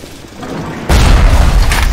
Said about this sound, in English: does that thing just shoot a dang rocket at me?